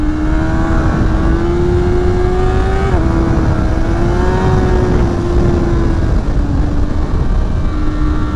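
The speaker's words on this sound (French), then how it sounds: "Ah, le petit 4 cylindres classique qui est rageur, qui se roule bien" A 2024 Honda CBR 600 RR four-cylinder sport bike howls loud and close on a race track, holding a steady high-revving scream with brief dips where revs drop and rise again, with no talk over it.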